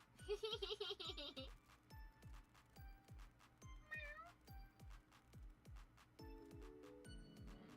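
A cat meows repeatedly, a rapid run of rising and falling cries followed by a higher, wavering meow, heard close over a muffled rhythmic tapping.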